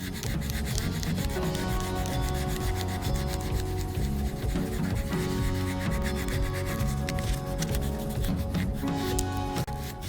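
Fine 400-grit sandpaper rubbed hard by hand over a scuffed leather shoe, a steady close scratchy rasp with rhythmic back-and-forth strokes that keeps going without pause.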